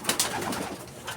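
Racing pigeons coo softly at night during derby preparation, a brief low murmur of a few overlapping coos in a quiet loft.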